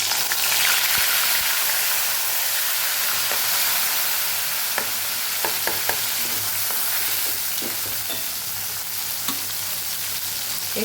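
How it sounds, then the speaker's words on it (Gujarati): Chutney sizzling and frying in hot oil with asafoetida while a spoon stirs it, a steady loud hiss across the whole stretch punctuated by scattered sharp spatters and scraping clicks, with no talking. "આપણે જે ચટણી તૈયાર કરેલી એ ઉમેરી દેવાની છે"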